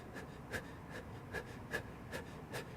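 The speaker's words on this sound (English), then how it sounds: "some shallow panting breaths." Quiet, shallow panting breaths repeat at a steady rhythm, about seven soft puffs of air, close and faint with no talking.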